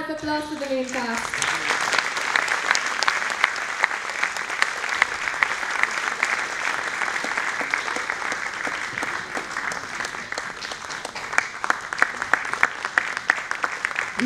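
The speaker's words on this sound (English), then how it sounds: "Another huge round of applause to the main cast." Audience applauding the main cast taking their final bow at a secondary school annual day, a large crowd clapping loudly and steadily for over fourteen seconds with a few sharper claps standing out toward the end.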